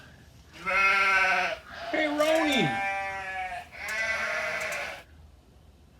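Several loud, close goat bleats, long and wavering, one sliding sharply downward in pitch; a brief voice may be heard near the start.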